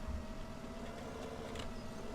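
A tractor engine idles in the Farming Simulator 17 video game, a steady mid-low motor hum with a faint tonal whine. It is fairly quiet and even, and no one speaks.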